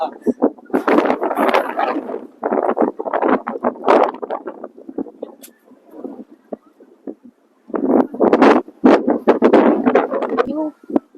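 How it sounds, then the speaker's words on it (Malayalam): Strong gusty wind buffets the microphone in loud bursts with quiet lulls between them, rumbling close and rough, on a foggy hilltop at Ambaji Durga Betta near Bangalore. "നല്ല കാറ്റുണ്ട് ഇപ്പൊ. നേരത്തെ എല്ലാവർക്കും നിറയെ കാറ്റുണ്ട്."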